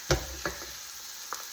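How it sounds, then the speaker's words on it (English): Peppers and carrots hitting a hot pan, a few brief thumps and soft sizzling bursts, quiet and close, with near silence between them. "Now I'm gonna add some peppers and carrots"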